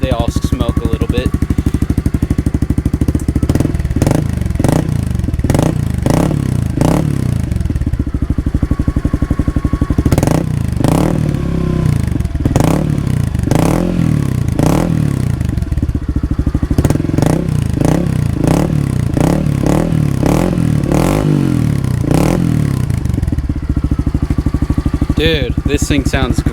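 A 2021 Honda CRF110 dirt bike with a full Yoshimura exhaust idles and revs in loud, repeated blips, its engine note rising and falling in bursts close by while people talk over it.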